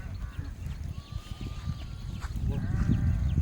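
Goat bleats rise out of a noisy outdoor setting, with a thin wavering call midway and another near the end, over steady rumble.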